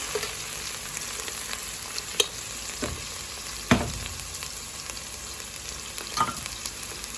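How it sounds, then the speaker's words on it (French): Tomatoes are stirred in a hot pan, with a steady soft sizzle broken by a few sharp utensil scrapes and taps, close and fairly quiet with no talking. "je suis en train de mélanger mes tomates"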